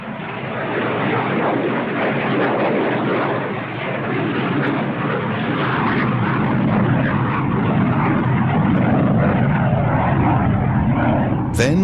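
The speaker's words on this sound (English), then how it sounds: "To this day, the AN-22 remains the largest turboprop in the world." An Antonov AN-22, a huge military transport turboprop, gives a loud, steady, unbroken engine roar that fills the whole stretch with an even rumbling drone.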